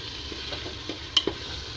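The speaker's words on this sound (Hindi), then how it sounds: "ये मैंने दाल डाल दिया और अब मैं इसे कुछ देर तक भूनूंगी।" Lentils fry with spices in a pan, a soft, low sizzle with a few light stirring clinks and scrapes, fairly quiet and close.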